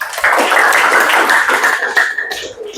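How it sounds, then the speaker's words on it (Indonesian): Classroom applause from students at the end of a lesson, a dense, close burst of clapping that holds steady for about two seconds before tapering off, with no talk over it. "Tepuk tangan buat kalian semua."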